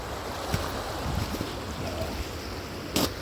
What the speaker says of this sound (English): Oh yes, the creek still flows.